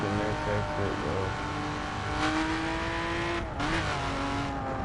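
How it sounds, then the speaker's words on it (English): A 2011 BMW Z4 Street Edition with a 412 hp engine revs loudly from inside the cabin, its pitch climbing through the gears with a brief dip between shifts, steady and continuous with no talking. "This car is so loud"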